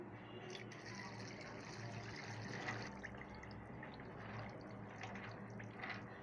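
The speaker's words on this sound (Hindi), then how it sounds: "तो अब मैं इसमें पानी ऐड कर दूंगी।" Water poured from a vessel into a pan of uncooked macaroni cooked with desi ghee, a steady soft splashing and gurgling fill that runs evenly throughout at close range.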